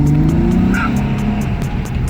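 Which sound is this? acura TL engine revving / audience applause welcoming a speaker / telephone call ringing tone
acura TL engine revving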